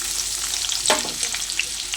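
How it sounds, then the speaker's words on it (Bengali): Chopped onion frying in hot oil left over from frying katla fish steadily sizzles and crackles, with a brief louder burst near the middle as it is stirred, and no voices. "এবার মাছ ভাজা ওই তেলের মধ্যে দিয়ে দেবো পেঁয়াজ কুচি"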